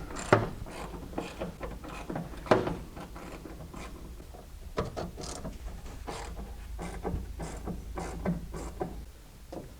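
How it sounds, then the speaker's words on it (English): A socket wrench with an extension and a deep 7/16 socket loosens nuts on the front trim of a 1967-68 Cougar, producing quiet ratcheting clicks and small metallic knocks in irregular bursts, fairly close, with no voices. "I'm going to use my extension with my deep 7/16 to get these 3 nuts off"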